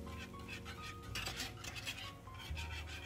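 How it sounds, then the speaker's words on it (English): Ugali porridge being stirred in a pot gives a faint, continuous scraping and churning with soft clatter from the utensil against the pot, steady throughout with no talking. "So mix your porridge and then let it cook."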